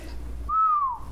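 A person gives a single short whistle, one clear rising-then-falling note lasting under half a second, close and moderately loud.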